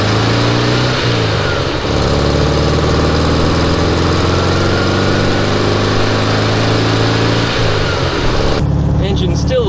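A VW Type-3 engine with dual carburetors idles while still slightly cold, a loud, steady low rumble close to the microphone with a slight rise in revs near the start and a voice speaking briefly over it.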